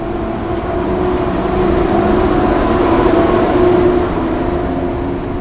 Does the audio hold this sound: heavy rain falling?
no